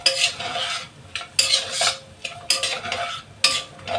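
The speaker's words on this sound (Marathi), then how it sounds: "मस्त असं छान परतून घ्यायचंय।" Coriander leaves stirred into a pan of dal khichdi base, producing repeated scraping strokes with soft sizzling, loud and close, in bursts about once a second with no talking.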